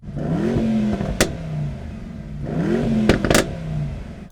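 A Mercedes-AMG E63, compared alongside an Audi RS6, BMW M5 and Porsche Panamera, revs twice from idle. Each blip swells and falls back, with sharp pops near the top, and the engine stays loud and close throughout.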